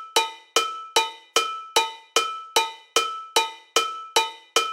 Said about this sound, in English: We have this cowbell African bell section.